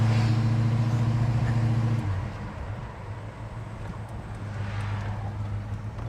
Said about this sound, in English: The engine sound is just beautiful.